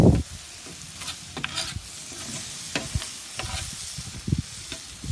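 Hibachi-style shrimp sizzle on a griddle over a Santa Maria grill, a steady close frying hiss broken by scraping, stirring clicks and knocks from a utensil.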